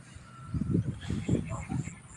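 A flock of itik ducks honk and quack in a few loud bursts close by, with faint background noise between calls.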